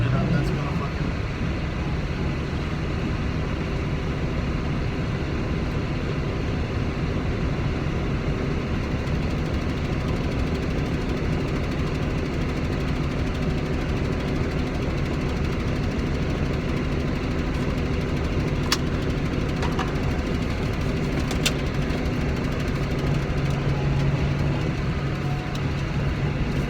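Tractor engine running in a steady low drone, close and continuous throughout, with faint clicks and rattles over it and speech mixed in.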